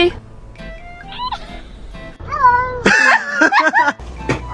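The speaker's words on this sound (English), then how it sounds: "Look at this little kitten." A little kitten gives a series of high, wavering meows, some short and some drawn out, close by and clearly audible, with a few louder cries toward the end.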